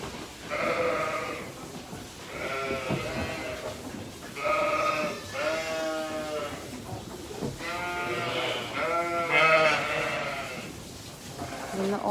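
Mother sheep and young lambs bleat repeatedly on a farm, with overlapping, wavering calls of varying pitch following one another closely and loudly throughout.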